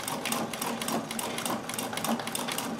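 Straight stitch sewing machine with a multi-point zigzag attachment running steadily, a fast even chatter of needle strokes, close and continuous with no talking.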